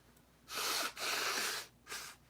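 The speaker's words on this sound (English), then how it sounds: "So I'm always sniffling." Three sharp nasal sniffs, close and fairly quiet, the middle one longest, with brief pauses between.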